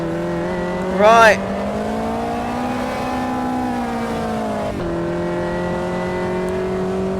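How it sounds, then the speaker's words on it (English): Race car in the Automobilista 2 racing game holding a steady engine drone, with a brief whine and a pitch drop as it brakes for a corner, continuing at a lower note, while a voice briefly speaks. "I'm braking pretty much dead on that 100 foot sign."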